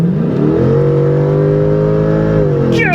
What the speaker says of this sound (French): Et lorsqu'on décide d'ouvrir l'échappement, et qu'on met ça en mode sport.